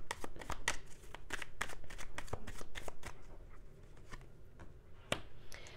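Tarot cards shuffled for a reading, a steady run of crisp riffling and slapping card sounds close by, continuing for several seconds with brief pauses and one sharp snap near the end.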